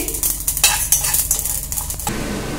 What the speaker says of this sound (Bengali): এই যে মশলাগুলো ছিট করছে, তার মানে কিন্তু মশলা ভাজা হয়ে গেছে